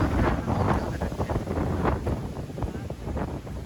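Strong storm wind over a village buffets the microphone with a constant roaring rush and gusty swells of loud broadband noise.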